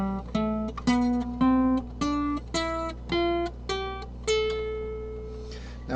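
Guitar picks a single-note scale ascending from the fifth degree through the root in C, about nine clear plucked notes in an even rhythm, the final note left ringing.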